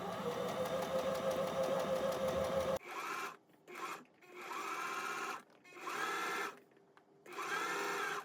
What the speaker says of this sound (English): So for a base stitch, you're going to increase your length to the highest on your machine.